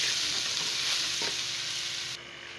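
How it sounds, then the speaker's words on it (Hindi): Fenugreek, chicken powder and finely chopped green chillies fry in hot oil, a loud continuous sizzle with stirring, one brief scrape of the spoon partway, the hiss dropping slightly near the end. "अब इनकी भुनाई करती हूँ"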